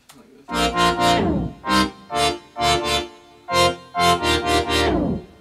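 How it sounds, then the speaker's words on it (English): Short, punchy synth chords in a bouncy, syncopated rhythm, with the longer held chords sliding downward in pitch at their tails, loud and processed, playing alone without any voice. "You'll hear the pitch just drop on the synth chords."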